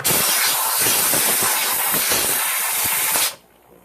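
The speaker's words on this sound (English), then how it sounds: "and run it through the steamer" A steam cleaner loaded with a little soap hisses loudly and steadily on a vintage watch for about three seconds, then cuts off, leaving a faint hiss.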